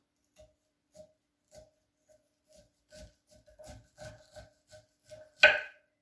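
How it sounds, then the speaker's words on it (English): A sharp knife cuts corn kernels off the cob in a home kitchen, giving a steady series of soft taps that quicken and end in one louder, crisp scrape. "take your knife and carefully run it along the cob"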